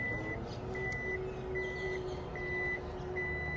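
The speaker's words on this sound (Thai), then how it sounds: "ได้ยินเสียง สัญญาณถอยครับ" A steady series of high reversing warning beeps from a Toyota Fortuner Legender as its kick-sensor tailgate operates, evenly spaced, repeating over a low background hum of the idling vehicle.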